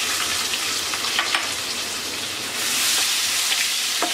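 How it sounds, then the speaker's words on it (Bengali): Chopped onion frying in a pan with oil, bay leaf and whole cumin, a steady close sizzle with occasional crackles and a brief louder surge. "পেঁয়াজটাকে হালকা ভেজে নেব।"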